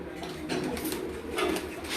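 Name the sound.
pigeon cooing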